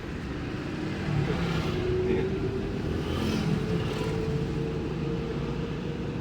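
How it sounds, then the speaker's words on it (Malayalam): A driving-school car pulls away in busy traffic as the learner lifts off the brake and eases on the accelerator, giving a steady, moderately loud engine and road hum with no sharp revving. "നീങ്ങാൻ നേരത്ത് ബ്രേക്കിൽ നിന്ന് കാലെടുത്തിട്ട് ആക്സിലേറ്റർ മെല്ലെ കൊടുക്കും."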